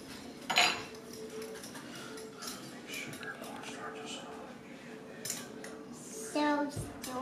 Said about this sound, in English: I'm stirring eggs.